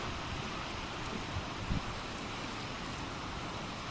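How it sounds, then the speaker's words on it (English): Rain falls steadily outdoors, a continuous even hiss with faint patter and light wind buffeting, no voices, holding at an unchanging level throughout. "wait for the rain to ease up"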